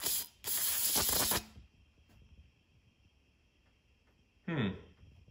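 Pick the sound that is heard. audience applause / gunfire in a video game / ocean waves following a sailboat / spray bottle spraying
spray bottle spraying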